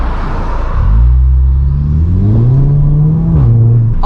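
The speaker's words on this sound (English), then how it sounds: "you've got the exhaust which is really subtle in the low revs, and then once you get to the high revs, the exhaust takes over from the air filter" Volkswagen Scirocco engine revving close up, a deep rising drone as revs climb and hold, with air-filter intake roar and exhaust tone swelling, then easing back before a final rise.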